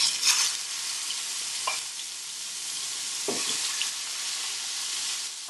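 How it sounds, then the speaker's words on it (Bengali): Rui fish fries in hot oil for a Bangladeshi-style curry, giving a steady, fairly loud hiss of sizzling with a few soft taps of the pan or spatula. "আমার তেল গরম হয়ে গিয়েছে। আমি এখন মাছটা ছেড়ে দিব।"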